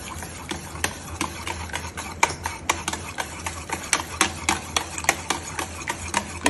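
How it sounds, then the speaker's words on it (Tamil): Spoon repeatedly stirring milk into a custard mixture in a bowl, producing steady rhythmic clicks and scrapes over a low background hum, close and moderately loud. "ஆட் பண்ணிவிட்டு நல்லா மிக்ஸ் பண்ணிக்கோங்க"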